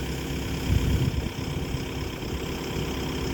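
A steady low tractor engine rumble idling close by, continuous and unchanging for the whole stretch, with no voices.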